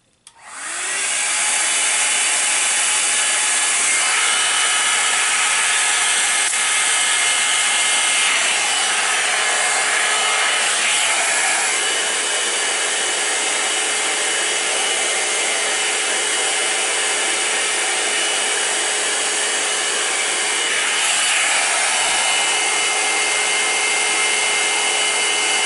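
A steady, loud electric heater fan blowing with a constant broadband whoosh, starting abruptly and running unchanged for the whole stretch with no talking.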